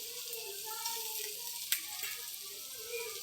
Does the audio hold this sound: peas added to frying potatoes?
yes